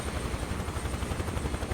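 Huey helicopter in the MS Flight Sim 2024 game, seen from outside, giving a steady, rapid rotor thump over a dense engine roar, heard alone and fairly close.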